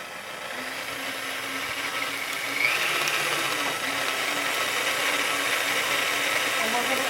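An electric mixer whirs continuously through brownie batter in a home kitchen, a steady mid-loud motor drone with a slight bump partway through, while someone talks over it.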